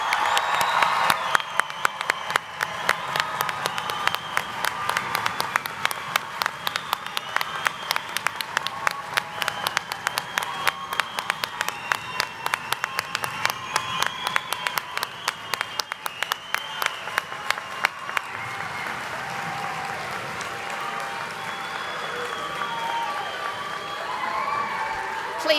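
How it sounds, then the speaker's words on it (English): An audience at a spring college commencement ceremony applauds its graduates with loud, sustained clapping that carries rhythmic, near-unison beats for much of the stretch and some cheering, then eases into looser applause at the end. "Let's give our graduates a round of applause"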